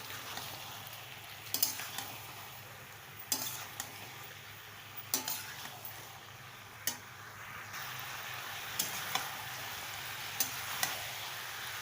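Shredded cabbage cooking in a pan with chopped tomato and turmeric, a steady soft sizzle with intermittent scraping and stirring clicks of a spatula against the metal, close and fairly quiet, no talking.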